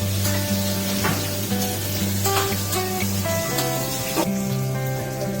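Pomfret fish frying in hot oil, a steady, fairly loud sizzle running throughout with scattered crackles and pops.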